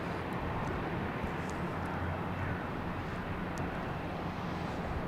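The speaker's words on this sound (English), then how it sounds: "we have United Airlines coming in from Denver, an A321neo" A United Airlines Airbus A321neo airliner arrives at Boston Logan Airport from Denver, giving off a steady, loud, broadband jet roar that holds evenly throughout with no voices.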